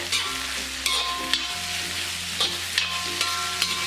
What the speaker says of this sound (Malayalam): അത് ഇതിലേക്കിട്ട് ഇളക്കി കൊടുക്കാം.